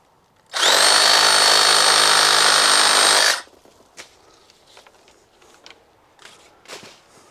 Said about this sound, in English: let me get the sawzall out